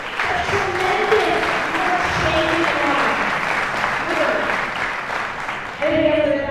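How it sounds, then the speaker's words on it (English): Loud gala audience applause at a fundraising auction, sustained crowd clapping with voices talking and calling out beneath it throughout. "Give yourself a huge round of applause."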